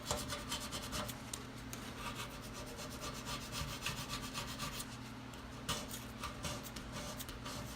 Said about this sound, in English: Until as much as I can scrape off is removed.